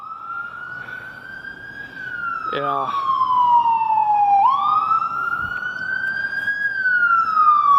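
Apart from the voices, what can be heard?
ambulance siren passing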